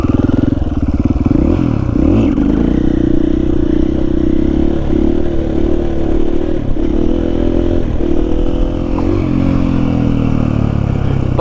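A Honda XR80 dirt bike fitted with a KTM power bundle roars loud and close, engine droning and revving steadily with rattling clatter, no voices.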